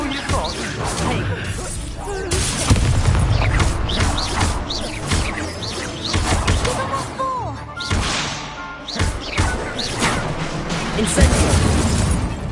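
Incendio fire spells are cast in the video game Hogwarts Legacy, producing repeated whooshing blasts and crashing impacts amid busy combat noise, with a voice talking over much of the action.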